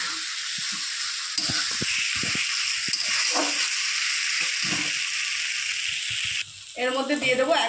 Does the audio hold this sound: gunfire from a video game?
no